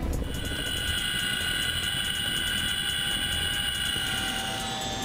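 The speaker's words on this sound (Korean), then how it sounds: "어느덧 하늘 위로 올라온 시누크 헬기." A Chinook military helicopter climbs high during special forces training, its rotor and turbine noise a loud, steady drone held at even level with no voices.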